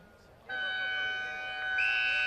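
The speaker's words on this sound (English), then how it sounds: "I think it's the siren for quarter time" A quarter-time siren sounds at a Tasmanian State League Australian football match, Kingborough against North Launceston: a steady, loud multi-tone wail that begins abruptly and holds, rising in pitch near the end, over crowd ambience.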